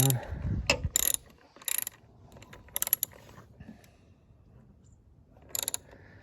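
Ratchet wrench torquing down a bolt on an Alfa Romeo Giulia, several short sharp clicking bursts separated by pauses, close up.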